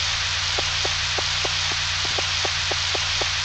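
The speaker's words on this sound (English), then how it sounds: "We don't have to water it because it's raining." Steady rain hiss from the video game Harvest Moon 64, a constant wash of falling rain over a low looping hum, with soft, evenly spaced plinks recurring about every third of a second.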